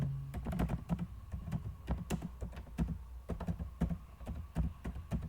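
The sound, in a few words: typing on a computer keyboard while writing HTML list items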